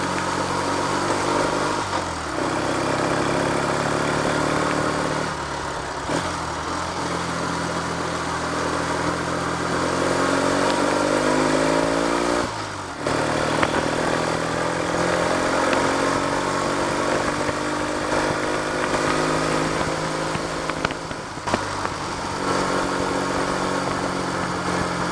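Triumph Trophy TR5 motorcycle riding along in second gear, its engine running steadily and loud throughout with a continuous mid-pitched drone, slight pitch rises and dips, and brief gear-change or throttle lifts.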